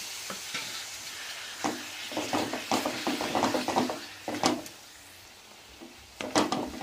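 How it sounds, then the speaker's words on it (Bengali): Boiled mixed-vegetable dal being stir-fried in a pan with a little hot water added, a close sizzle broken by repeated scraping and clattering strokes of a spatula against the metal. "সেদ্ধ সবজি ডালটা ওর মধ্যে দিয়ে দিলাম, দিয়ে ভালো করে আবার কষাবো"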